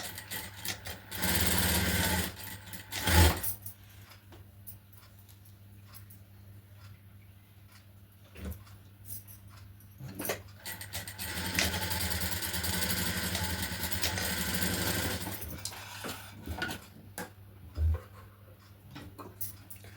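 A sewing machine stitches blouse fabric in several bursts of rapid mechanical clatter, some short and some longer, separated by quiet pauses, close and moderately loud.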